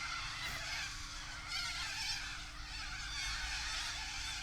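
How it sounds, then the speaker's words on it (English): Raucous, overlapping squawks from a flock of corellas, somewhat distant, with a steady low hum running underneath. "I think they're the corellas."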